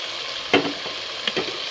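Fried potato and eggplant pieces are tipped into roasted masala in a pan, giving a steady close sizzle with two sharper bursts of frying as they land and are stirred.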